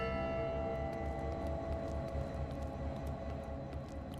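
A bell rings in a video game after its clapper is restored, a sustained, resonant tone with a deep hum underneath that stays steady and fairly quiet throughout.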